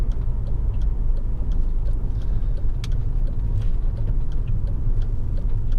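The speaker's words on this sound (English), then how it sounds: "It's rock steady on the idle. It pulls exactly as it should have done." A 2008 Honda Civic 1.8 i-VTEC EX hatchback idles rock steady, a constant low engine hum with faint regular ticking on top, recorded close and without talk.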